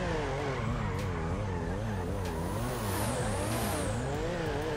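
A car engine in GTA 5 revs loudly and continuously, its pitch rising and falling in repeated waves, with brief sharp transients over the steady roar and no talking.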